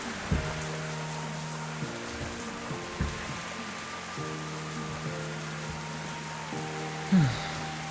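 Rain falls steadily as a broad, even hiss outdoors, with a low droning hum and a few soft knocks and thumps underneath.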